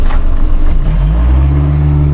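Car with a 2.5 engine accelerating at full throttle: a loud, close engine roar with a low droning tone that climbs steadily in pitch as revs build.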